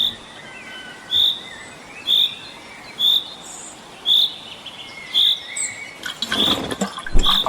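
A bird repeats a short, bright chirp about once a second against a soft outdoor hiss, with some rustling and clatter near the end.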